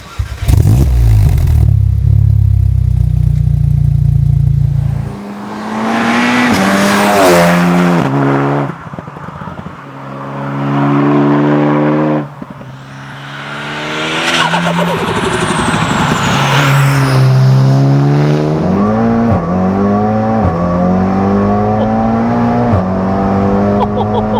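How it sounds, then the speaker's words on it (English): A tuned MK7 VW Golf R estate with over 600 BHP starts up and revs hard while driving, the engine climbing through repeated rising sweeps with gear changes between them, loud and close throughout. "we'll get it started up and go for a spin."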